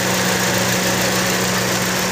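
A Toyota Altis engine idles steadily while its ignition coils are pulled one at a time for testing, a loud, close, continuous hum with a constant low tone and no voices.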